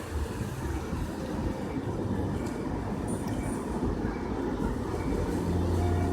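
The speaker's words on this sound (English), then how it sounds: "Let's wait for this tram to get out of the way." A heavy rumbling tram passes steadily nearby, a continuous low grinding roar that swells slightly toward the end, with no voices.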